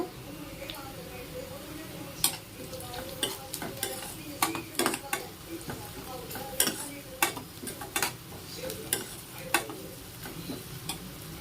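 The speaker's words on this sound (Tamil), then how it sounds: "வெங்காயம் கொஞ்சம் வதங்கட்டும்" Onion, garlic and dried chillies fry in a pan with a soft, steady sizzle. Sharp scraping ticks from stirring recur through the clip, and no one speaks.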